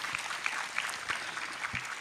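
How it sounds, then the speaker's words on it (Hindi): An audience applauds the Indian army at an Independence Day celebration at a university, with faint, fairly distant clapping for two seconds. "एक बार ज़ोरदार तालियां भारतीय सेना और उनके जवानों के लिए।"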